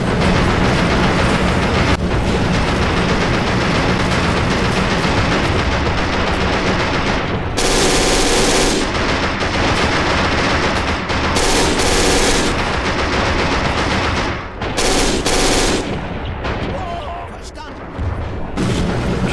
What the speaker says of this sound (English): I'm just peppering those windows with fire